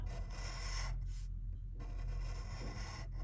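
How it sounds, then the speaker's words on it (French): Scratching an FDJ lottery scratch card, a steady close rasping rub with one short pause in the middle, heard alone with no talk. "Allez, on gratte le numéro gagnant."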